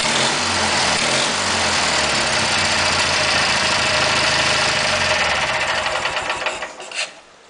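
A small Kohler engine runs loud and steady with a buzzing, high-revving drone, then is cut and fades out abruptly near the end.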